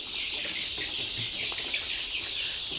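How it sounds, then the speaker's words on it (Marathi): Sonali breed country chickens eat feed in a poultry shed, a dense steady chorus of clucking and chirping from many birds with soft pecking, continuous throughout and free of talk. "हे पहा, अशा प्रकारे पक्षी खाद्य खात आहेत"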